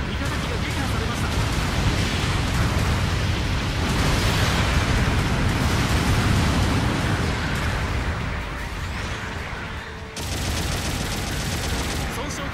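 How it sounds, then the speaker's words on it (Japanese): Artillery support bombardment in Gundam Battle Operation 2 brings a dense, continuous rumble of overlapping explosions that roll on loudly for the whole stretch, easing slightly near the end before resuming. "支援砲撃が来ます。"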